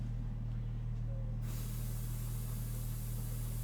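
An airbrush spraying water starts with a sudden sharp hiss that holds steady, over a constant low electrical hum from the compressor.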